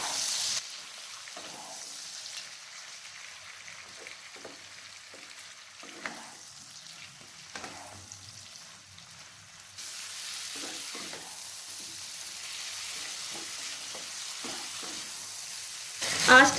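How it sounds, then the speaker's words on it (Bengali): Marinated chicken pieces fry over medium-low heat in a pan with a soft, steady sizzle. Scattered scrapes and clinks of stirring come and go, the hiss grows a little louder partway through, and a sharp knock sounds near the end. "আঁচটাকে মিডিয়াম টু লোয়ে রেখে আমি চিকেনটাকে ভেজে নিচ্ছি।"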